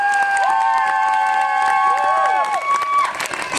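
Crowd cheering and applauding for a costumed lizard at a Masopust carnival in Nová Paka, a loud sustained mix of claps, whistles and shouts with children's voices.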